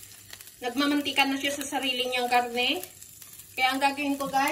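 Meatballs sizzling in their own fat in a hot frying pan, a steady crackling hiss running beneath a person talking throughout.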